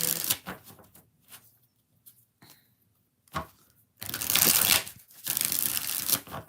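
Tarot cards are shuffled in short riffling bursts with quiet gaps between them, close and fairly loud, the longest flurries coming near the end.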